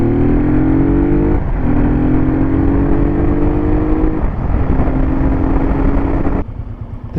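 A naked motorcycle engine idles steadily at tickover, close and loud, with a continuous low throbbing hum that shifts slightly in pitch a few times before dropping lower near the end.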